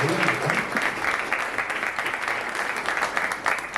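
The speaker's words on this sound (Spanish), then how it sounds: "Un aplauso a Brian." Audience applause for a poet named Brian at a literary talk, a continuous even patter of many hands clapping at moderate volume, holding steady throughout.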